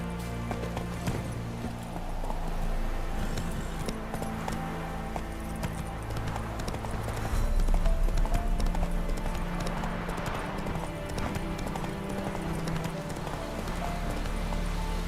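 Roach, the horse in The Witcher 3: Wild Hunt, gallops across open fields in a rapid, continuous clip-clop of hooves, close and steady, with a heavier thudding stretch midway.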